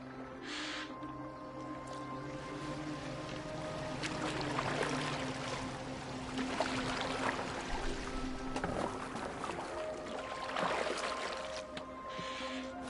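A boat moves through water in Assassin's Creed Valhalla, a steady wash and lapping running throughout at moderate level, with sustained tonal background sounds layered underneath.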